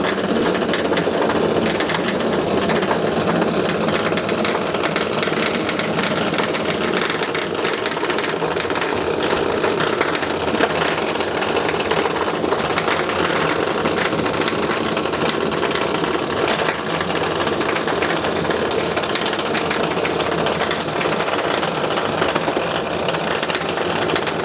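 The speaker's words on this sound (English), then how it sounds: "spooky illoom balloons rummaging around the floor, scurrying and jostling and fighting and pushing, and that spooky rumbling sound." HexBug robots inside illoom LED balloons scurry and jostle across a floor, producing a continuous, loud, steady rumbling buzz that holds throughout without pause.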